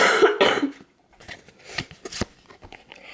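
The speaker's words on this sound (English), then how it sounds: "I'm so sorry, guys, and I'm coughing." Several close, sharp coughs from one person in a quiet indoor room, a cluster of harsh bursts followed by a pause and then a few softer, scattered coughs and throat noises.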